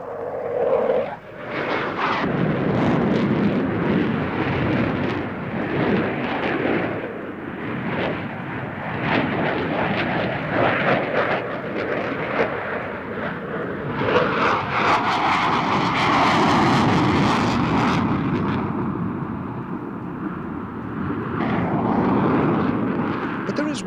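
A display aircraft at the 1987 International Air Tattoo at RAF Fairford roars steadily overhead in moist conditions, its loud engine noise swelling and fading for the whole span while a commentator talks over it.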